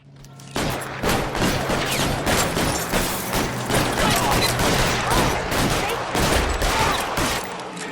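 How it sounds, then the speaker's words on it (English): Dense, continuous gunfire in the L.A. Noire shootout at Nicholson Electroplating, rapid overlapping shots and bursts filling the whole stretch at loud, close range, with a voice briefly heard beneath the volleys. "Fire a warning round."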